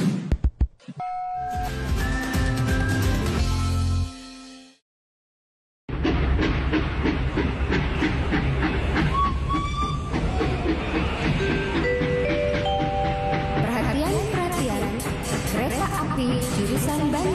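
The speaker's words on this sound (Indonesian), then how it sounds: "kereta api jurusan Bandung Surabaya akan segera berangkat" A passenger train on the Bandung–Surabaya line sets off with continuous rumbling and clattering, a chime ringing early, a short drop to silence, then steady loud rolling with tonal squeals and whistle-like notes.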